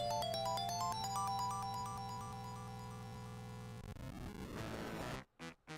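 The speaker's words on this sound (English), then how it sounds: "The bridge sound effect got stuck." A stuck bridge sound effect in a Sonic video game loops as a repeating electronic chiptune-like tone pattern, steady and bright, then warps into a noisy smear before cutting to near silence with a few short bursts.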